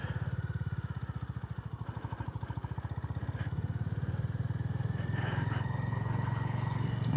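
A Honda GB350 motorcycle accelerates hard on a highway, its single-cylinder engine thumping in a rapid even pulse that climbs steadily in pace and loudness, close up with wind noise.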